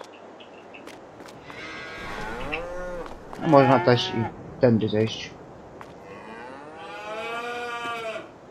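Cows moo in the barn in Farming Simulator 22: long, drawn-out moos near the start and end, with a person talking briefly between them.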